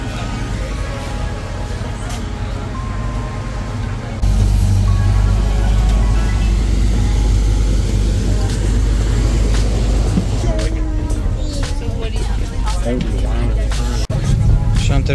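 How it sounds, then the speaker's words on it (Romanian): Buses idling and running at Mammoth Cave, Kentucky: a steady low diesel rumble that grows louder partway through and holds, with people talking over it nearby. "și ne așteaptă autobuzele"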